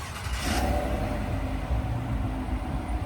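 A 2024 Chevrolet Silverado LT Trail Boss with a 5.3-liter V8 remote starts, a brief crank burst followed by a low, steady idle rumble close by.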